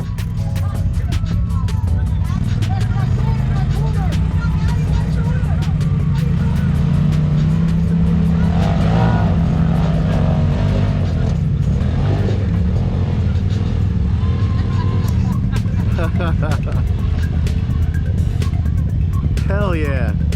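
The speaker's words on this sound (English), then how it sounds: "put it in 4-wheel drive." A four-wheel-drive vehicle climbing a muddy hill at an off-road mud event, its engine roaring and revving loudly and continuously throughout, with people shouting and talking over it.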